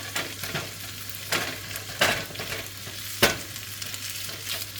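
Rice being stir-fried and broken up in a pan, a soft sizzle punctuated by several distinct scraping and tapping strokes spaced about a second apart.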